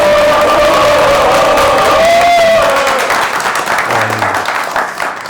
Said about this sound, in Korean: 여러분들 격려와 환영의 박수 좀 크게 쳐주시기